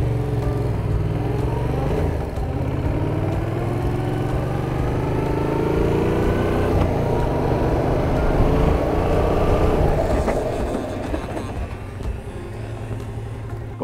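A motorcycle accelerating in third gear up to 50 km/h during a riding-school exercise, a steady loud engine drone rising in pitch for several seconds before easing off, heard close with rushing wind.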